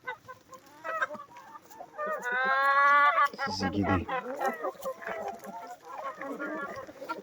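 A flock of hens let out after rain to graze on green grass, clucking and squawking close by in a busy, overlapping chorus, with someone talking over them.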